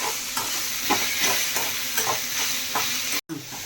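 Whole masala spices are dry roasted in a pan for a village-style mutton rassa, a close, steady crackling rustle with rhythmic stirring scrapes and a brief cut near the end.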